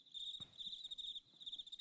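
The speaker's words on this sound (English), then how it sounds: "crickets" Steady high cricket chirping, faint and continuous, with pulsing trills throughout and a brief soft thump early on; no voices.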